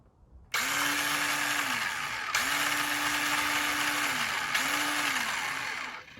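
Small Ryobi 18V cordless power tool motor whirring up in three close, loud runs, each a steady high whine that spins up, holds and winds down, with no talking.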